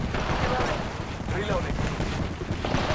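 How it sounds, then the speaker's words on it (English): Knuckle Cluster ability firing in the Apex Legends video game, a dense burst of rapid crackling explosions and gunfire pops, loud and continuous, with game voice lines mixed in. "Knuckle cluster's firing."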